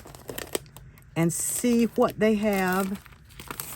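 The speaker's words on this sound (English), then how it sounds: "I'm going to open up this sticker pack" A plastic sticker pack for a paper planner being opened, with brief crinkling and rustling near the start before a person talks over the rest.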